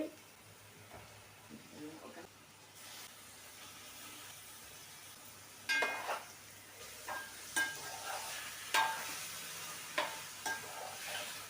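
Pieces of chicken for a home-style curry hit a hot pan and sizzle, with a steady frying hiss broken by sharp crackles and scraping stirs as more pieces go in; a person talks over it.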